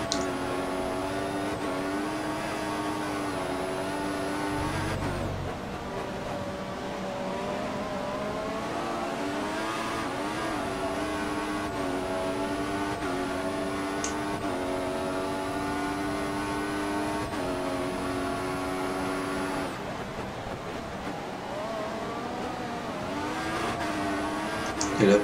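F1 car engine in the F1 2014 game on Bahrain's circuit, a high, steady whine that climbs through the gears with brief dips at shifts, running continuously for the whole stretch, with a commentator talking over it.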